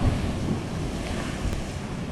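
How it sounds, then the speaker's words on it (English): Ocean waves on the East Coast lap against a wall in a steady, soft wash, mixed with wind rumbling across the microphone, with no talk. "The waves are just pitter-pattering against the wall."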